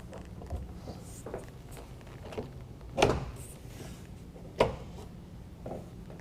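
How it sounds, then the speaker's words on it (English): An UnderCover Armor Flex tonneau cover's folding panels are folded toward the tailgate one at a time on a pickup bed, giving soft bumps and a couple of sharper clicks, near but fairly quiet. "As each panel clicks into place, make sure it's centered side to side and go to the next panel."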